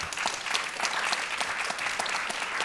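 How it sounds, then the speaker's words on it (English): Audience applauding at a game pitch conference, a steady roomful of clapping hands that holds for a few seconds without talk. "You got bigger applause than I did when I asked for forgiveness"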